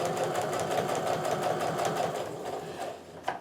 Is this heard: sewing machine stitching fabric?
yes